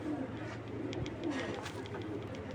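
A pair of flying pigeons, the male tournament-flown, coo softly at a pigeon seller's, the low calls faint under a constant background hiss and murmur.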